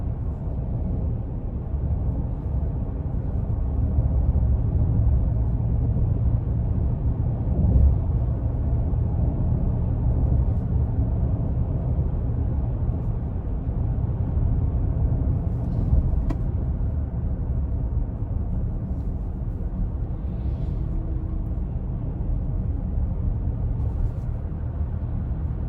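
Steady low rumble of road and tire noise inside a 2021 Chevrolet Traverse High Country AWD on the move, a constant broadband drone with slight swells and no talking over it.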